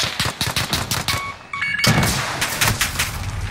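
Rapid automatic gunfire in Call of Duty Modern Warfare, a fast rattling string of loud shots, a brief pause, then more sustained firing.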